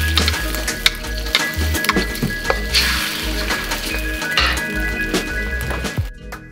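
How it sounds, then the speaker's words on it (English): Egg sizzling and frying in a hot pan while being stirred for shrimp fried rice, a steady crackle with clinks and scrapes of the utensil throughout, close and fairly loud, cutting off near the end. "Stir it up a little bit. We're basically making scrambled eggs here."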